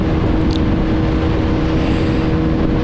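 A KRV motorcycle runs near top speed on the road, its engine a loud, steady, unbroken roar heavily mixed with rushing wind buffeting the microphone.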